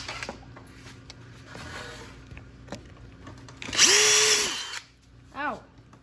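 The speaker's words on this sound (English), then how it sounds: "See, I just drilled through." A power drill bores through wood during a boat build, a loud whining burst of about a second rising and stopping abruptly, with softer handling noises and a brief vocal exclamation afterward.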